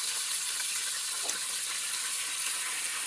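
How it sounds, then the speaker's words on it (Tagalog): Fish sizzles in hot oil for escabeche, giving a dense, steady crackling hiss that carries evenly throughout, close by and with no voices. "Ipiprito muna natin ito."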